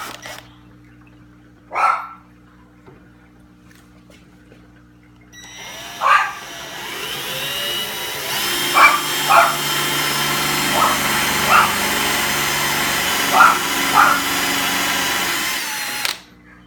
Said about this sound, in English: Get yourself a countersink drill bit like this, and start drilling out your holes.